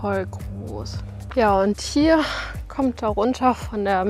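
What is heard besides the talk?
No distinct noise like a dog, phone or traffic.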